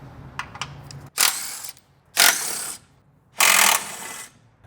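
Ratchet backing out 15 mm bolts from a front brace on a 2024 GMC 2500/3500 truck: three loud, close bursts of rapid clicking, each about a second long, separated by short quiet gaps.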